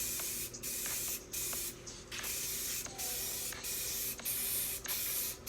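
Primer sprays from an aerosol paint can in repeated hissing bursts of about half a second to a second, separated by short gaps, close and steady with no talking.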